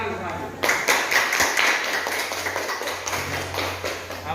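A classroom group claps together after finishing a presentation, a dense burst of hand claps starting abruptly and continuing steadily and loudly, with a low hum underneath.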